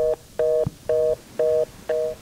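An internal office work phone gives its signal tone: five identical beeps evenly spaced about half a second apart, clear and steady above faint background hiss.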